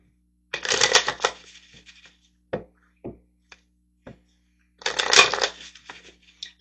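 Tarot cards shuffled by hand in two loud riffling bursts, with a few light taps and card clicks between them, close and clear with no talk.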